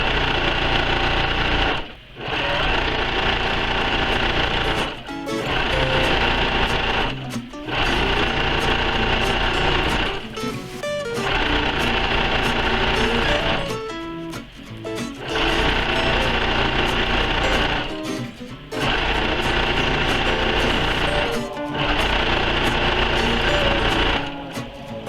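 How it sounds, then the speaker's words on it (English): A sewing machine stitching a quilt sandwich with a quarter-inch seam, a loud, steady mechanical whir running in long bursts with brief pauses between them. "I'm just stitching this at 1/4 of an inch."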